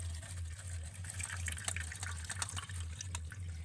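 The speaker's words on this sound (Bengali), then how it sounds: "এবার আমি নারকেলটাকে ছাঁকনিতে ছেঁকে নেব এতে করে কি হবে নিচে দেখুন দুধটা পড়ে যাচ্ছে" Coconut milk pours through a sieve as the grated coconut is strained, a close, continuous trickle and splash of liquid over a low steady hum.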